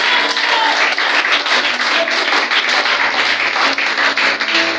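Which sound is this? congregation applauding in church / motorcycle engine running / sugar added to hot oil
congregation applauding in church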